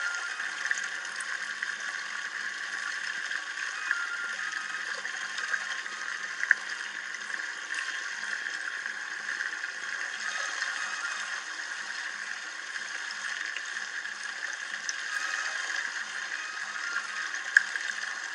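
Cold water runs steadily at the Mulabari village water point in Nepal, a continuous gentle hiss and trickle at moderate distance with an occasional faint splash, and no one speaking.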